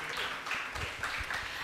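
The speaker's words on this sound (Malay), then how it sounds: "Mari sama-sama kita berikan tepukan yang gemuruh kepada wakil murid tahun 6" Audience at a Year 6 graduation ceremony at a primary school claps after a student dance performance, a dense, moderately loud patter of many hands with a faint voice in the background.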